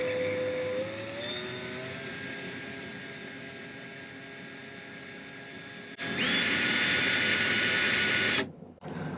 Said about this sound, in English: I'm going to use the saw blade here, which seems to track better, and I'll just let this spin along each of those marks.